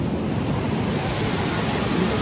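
A waterfall gives off a steady, broad rushing roar that stays even and close throughout, with no voices.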